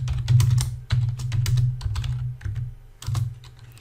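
Rapid clicking of keys on a computer keyboard while commands are typed into a Linux terminal session, close and fairly loud, in several quick bursts with short pauses and no voices.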